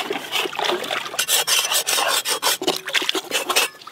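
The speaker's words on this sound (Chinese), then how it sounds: "现在我们来水里面再给它清洗一下。" Seared beef being washed and rubbed by hand in water, with wet scrubbing and sloshing strokes in an irregular rhythm, close and moderately loud, no talking.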